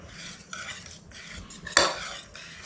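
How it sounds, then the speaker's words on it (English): A whisk beating egg mixture into pumpkin batter for gluten-free bread, quick bursts of metallic scraping and clinking against a bowl, with one sharp knock. "add the egg mixture to the pumpkin mixture and whisk to combine"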